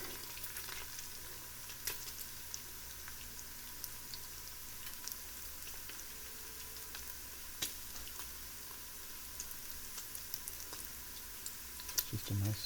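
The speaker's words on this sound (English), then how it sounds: "It's just a nice gentle simmer sizzle now." Pork stew frying in oil in a home kitchen, a gentle, quiet sizzle with scattered small pops and crackles that runs steadily throughout, with a louder clatter near the end.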